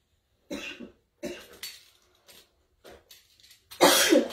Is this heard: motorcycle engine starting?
no